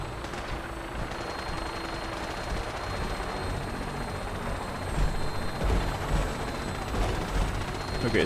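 Vertibird aircraft engine from the Fallout 4 video game, a steady loud rotor-and-turbine drone with heavier thumps in the last few seconds, continuous throughout.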